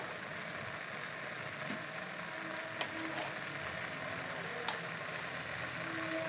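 Ghee sizzles in a pan of frying motichoor boondi, a steady, even hiss and crackle that runs unbroken throughout, with a couple of faint clicks from stirring and no voices.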